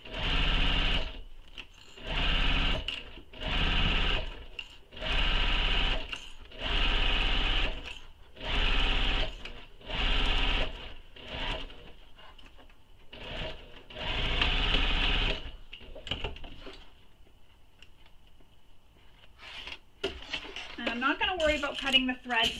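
A sewing machine runs a long basting stitch holding foam in place on a handbag, in repeated bursts of steady whirring with short pauses between, then stops as a voice speaks near the end.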